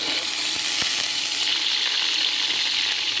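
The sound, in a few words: garlic frying in oil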